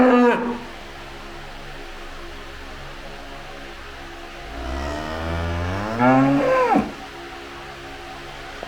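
A red cow lowing in Israel, two drawn-out moos with sliding pitch, the second louder and rising before cutting off, close and clear against a quiet background.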